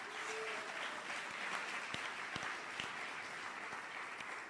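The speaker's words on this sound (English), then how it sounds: "Please give Reverend Juan another round of applause." A church congregation applauds a reverend after a Sunday service sermon: soft, distant clapping from a crowd spread over a hall, faint and continuous, with a few sharper claps standing out.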